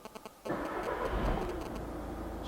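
A few faint clicks, then a VW Caddy 1.6 TDI diesel engine with a low fuel pressure fault cranks and catches, settling into a steady close idle rumble.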